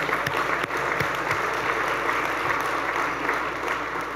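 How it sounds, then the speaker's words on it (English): Audience at a regional luncheon breaking into steady applause, a dense continuous patter of many hands clapping with no speech. "we should clap for that"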